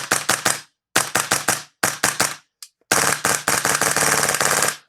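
CQB airsoft replica gun firing full auto: three short, rapid bursts with brief pauses, then a longer sustained burst, loud, close and snappy, with no talking.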